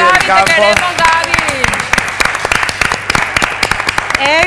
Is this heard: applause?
yes